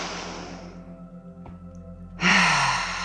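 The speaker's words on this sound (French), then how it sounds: "Et vous commencez par prendre 3 grandes respirations en gonflant le ventre." Slow, deep belly breaths: a long airy exhale fades out, then after a quiet pause a strong, close inhale rushes in and gradually tapers off.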